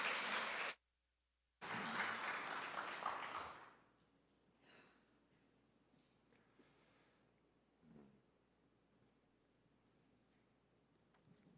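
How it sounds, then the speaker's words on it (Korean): A church congregation claps to welcome a missionary to the front, a brief burst of applause that cuts out, then a few more seconds of clapping before fading into quiet room noise with faint rustles and breaths. "let's welcome it with a round of applause"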